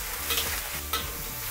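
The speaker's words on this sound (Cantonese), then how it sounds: "俾啲蝦咧喺度煎一煎先" Shrimp sizzles in a pan over medium-high heat with scallions, a loud steady frying hiss broken by a couple of stirring scrapes, no voices.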